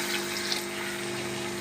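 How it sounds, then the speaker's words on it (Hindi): Water poured steadily from a glass into a pot of chole achari pulao rice, a continuous close rushing splash with no talk. "अब हम इसमें पानी शामिल कर रहे हैं।"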